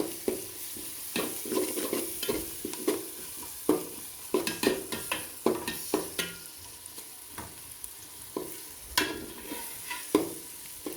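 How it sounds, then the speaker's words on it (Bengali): Spices being stirred into frying onions in a pan for a Bangladeshi-style beef curry: a steady sizzle under repeated scraping strokes of a spoon, close and moderately loud, with no voices. "সবগুলো মশলা অ্যাড করে দিলাম ভালো করে নেড়ে দিয়ে দিব"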